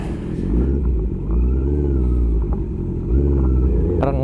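A Honda CB650R motorcycle rides a rough road in Dingalan, Aurora, its engine a loud, steady close-up rumble with rising and falling revs, and a sharp knock near the end.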